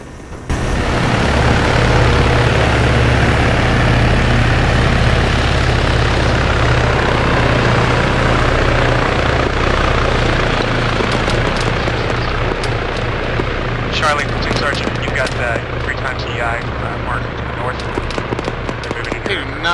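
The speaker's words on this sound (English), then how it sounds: "That helicopter." An Arma 3 military helicopter thrums loud and steady near the landing zone, its rotor drone continuous throughout, with brief crackling bursts and radio-style voices cutting in toward the end.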